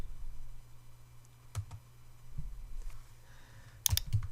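Typing a label on a computer keyboard, a sparse run of soft, close key clicks with small gaps between presses and a brief quick burst near the end, no voice.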